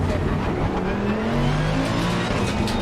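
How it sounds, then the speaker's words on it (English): A pack of race cars roars past in Assetto Corsa Competizione at Kyalami, a loud dense wall of engine drone with overlapping revving tones and no break. "So many cars."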